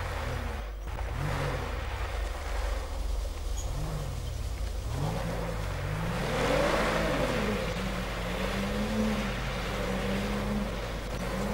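A Toyota Corolla engine in GTA 5 revs and strains off-road, with the pitch rising and falling in repeated surges over a steady rumble, continuous and fairly loud with no talking.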